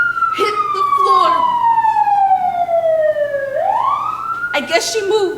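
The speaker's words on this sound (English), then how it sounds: "Sirens are approaching." A loud siren wails with a long falling tone that then rises again, close by, with brief voices in between.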